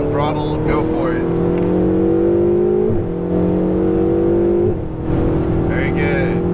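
A Ferrari 488 GTB on a Las Vegas race track, its engine droning steadily and rising in pitch under acceleration, heard from inside with an instructor talking over it.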